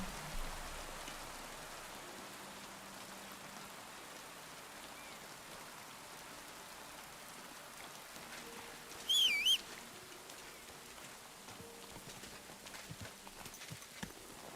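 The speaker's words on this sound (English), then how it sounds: "Dude, will it ever stop raining?" Steady rain falls throughout a video game scene, a soft even hiss with a brief louder chirp midway, and no talking.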